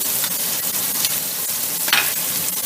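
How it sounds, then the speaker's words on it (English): Chopped onions sizzle steadily in leftover pork chop grease, a dense, close frying hiss with a brief louder crackle burst near the end, no voices. "we're going to throw them in, and we're going to just kind of caramelize these onions a little bit"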